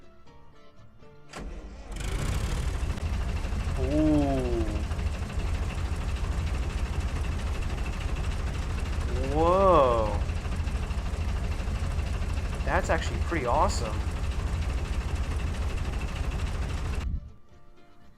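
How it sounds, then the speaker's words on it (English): A heavy tank engine in a video game rumbles to life and settles into a loud, steady idle for a long stretch, with brief voices reacting over it. "Really cool engine noises."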